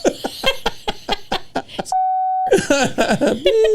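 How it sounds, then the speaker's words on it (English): A steady electronic censor beep cuts in for about half a second between stretches of rapid, animated talking. "Beep that, Jonah."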